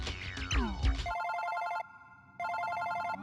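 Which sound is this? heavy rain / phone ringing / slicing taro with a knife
phone ringing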